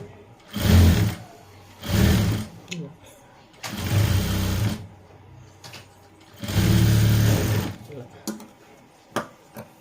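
A sewing machine stitches a seam on fabric in short bursts of a second or so each, separated by pauses, with a voice speaking in the gaps.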